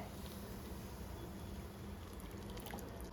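Melted jaggery syrup is poured through a strainer while a Kerala-style wheat flour snack is made, a soft, steady, continuous liquid hiss and trickle with no talking.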